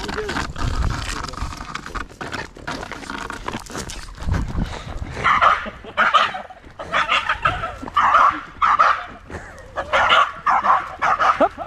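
A small dog near a large boat lets out repeated short, high yaps in quick bursts, close by, while people talk before and between the barks.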